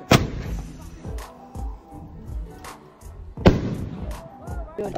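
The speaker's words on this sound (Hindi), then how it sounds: "गाइस मैंने जला दिया फटाका, देखो अभी कैसे आ रहा है, क्या बहुत बड़ा फटाका है" A Diwali aerial firecracker bursts with sharp, booming blasts, one at the start and a bigger one midway, echoing outdoors among other distant festival bangs, with people talking around it.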